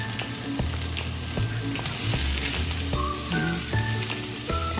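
Red and white onions fry in a pan with a loud, constant sizzle and crackle, broken by scattered clinks and scrapes of stirring close by.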